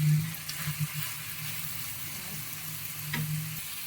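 Crispy fries are stirred into a sizzling chilli sauce in a pan for chilli potatoes, with a steady, close frying hiss and a few soft scraping stirs.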